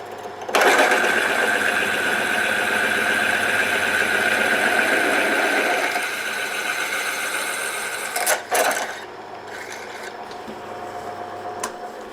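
A hand-sharpened drill bit bores a 13 mm hole, giving a steady, loud machine whine for about eight seconds that then drops, followed by a few sharp clanks and a quieter motor hum.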